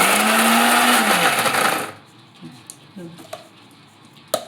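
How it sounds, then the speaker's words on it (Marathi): A mixer grinder grinds green chillies with raw mango for thecha, a loud, steady whirring roar for about two seconds that abruptly stops, leaving faint clicks and small knocks. "तर मी हे बारीक करते मिक्सरमध्ये"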